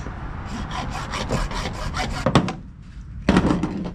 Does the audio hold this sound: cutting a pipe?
yes